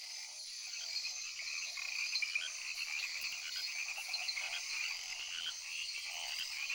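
Small jungle frogs call in a dense, steady chorus of high, rapid croaks and chirps, fairly faint and continuous with no voices.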